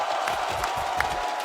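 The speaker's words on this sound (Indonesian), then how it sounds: "Tepuk tangannya sekali lagi." A large crowd applauds and cheers at an esports semifinal of Bigetron Alpha vs AP Bren, a steady wash of clapping with scattered whoops held at an even level throughout.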